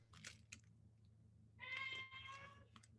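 A pet cat meows in a quiet indoor room, two or three soft, drawn-out cries that come a moment apart over a low steady hum, faint and fairly close, with no talk over them.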